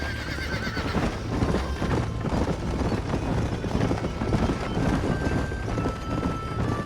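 In the Red Dead Redemption video game, a horse whinnies while its hooves clip-clop steadily and loudly over dense rolling ambience, the hoofbeats continuing without pause throughout.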